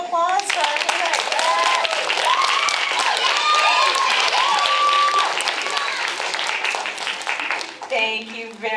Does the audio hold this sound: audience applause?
yes